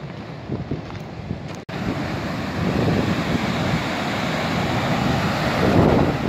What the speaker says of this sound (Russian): Так река бушует. Шурует.